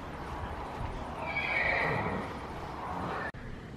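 A young horse on a ranch whinnies loudly and close by, a drawn-out neigh rising and falling over steady background noise, ending with a brief bump.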